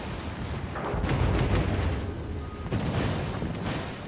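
A torpedo strikes a ship in a naval video game, booming out as a heavy, rumbling explosion with a second surge of blast noise partway through, loud and close.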